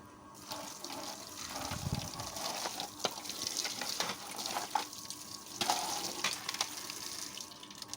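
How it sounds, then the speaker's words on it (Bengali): Tea plates and cups being washed in the morning under a running tap: a steady splash of flowing water with scattered clinks of crockery, close and fairly loud throughout, with no talking. "দেখতেই পাচ্ছ, মর্নিংয়ে উঠে আমি কিছুটা চায়ের প্লেট কাপগুলো মেজে নিচ্ছি।"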